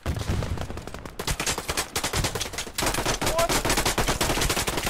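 Rapid automatic gunfire from the game Operation: Harsh Doorstop, with dense bursts of loud shots nearly nonstop and a brief lull before a heavier stretch of fire.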